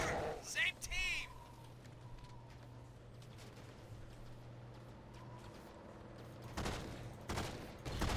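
Blaster fire from a Star Wars Battlefront 2 battle on the Frost Canyon map, with a few sharp bursts near the start and a louder volley toward the end over a steady hum.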